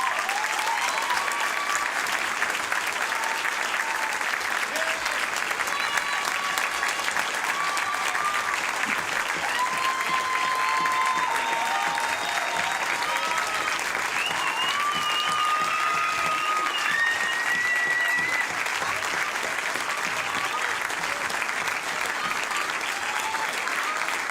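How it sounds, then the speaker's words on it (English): A school audience at a primary school jazz band concert keeps up a steady, full round of applause from start to finish, with some voices and cheers mixed into the dense clapping. "Another round of applause to Mr. Falcus."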